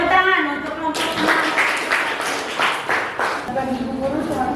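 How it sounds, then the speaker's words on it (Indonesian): A classroom claps for a student group, a burst of hand-clapping that starts abruptly and carries on for several seconds, mixed with voices speaking over it. "tepuk tangan untuk kelompok 6"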